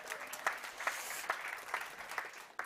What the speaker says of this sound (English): a big round of applause as well to Paul